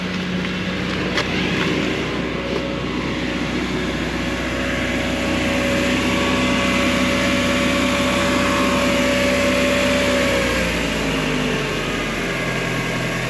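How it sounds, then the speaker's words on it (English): A Mercedes 220E engine running at a steady idle, a continuous close, loud drone with a faint whine that eases slightly lower near the end as the revs settle. "let's just see if she starts then. She does start."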